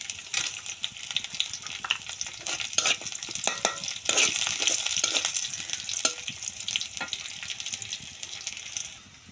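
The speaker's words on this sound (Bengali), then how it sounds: "এখন আমার রসুন পেঁয়াজ ভাজা হয়ে গেছে" Garlic and onion fry in hot oil in a wok as dal is started, with a steady crackling sizzle and scraping stirring strokes that keep going at moderate loudness throughout.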